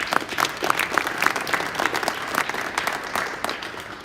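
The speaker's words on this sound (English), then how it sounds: "so you should applaud yourselves once more for the great job you did" An audience at an outdoor grassroots political festival in Wisconsin claps steadily, a dense patter of many hands at moderate distance with no voices on top.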